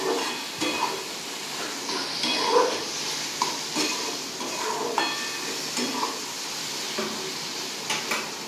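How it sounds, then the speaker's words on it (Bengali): Spices and vegetables sizzle in a hot pan for chhena masala with Kashmiri chili powder, a steady frying hiss broken by repeated scraping stirs of a spatula against the pan. "এবার এগুলো একটু মশলাগুলো সবজির সাথে ভালো করে ভেজে নেব।"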